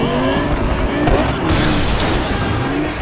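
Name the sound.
car exhaust pops and downshifts in Cyberpunk 2077 video game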